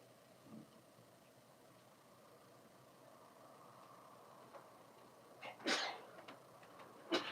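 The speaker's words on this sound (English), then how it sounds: "I was sneezing everywhere" A single sneeze bursts out near the end, fairly close and sharp against a quiet, faintly humming room, followed by a smaller sniff-like sound.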